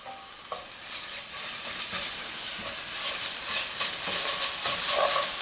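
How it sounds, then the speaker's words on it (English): Ginger garlic paste sizzles hard in a hot frying pan with golden-browned onions, a steady loud hiss broken by scraping stirs, with no voices. "Now we're gonna add 1 tablespoon of ginger and garlic mix paste."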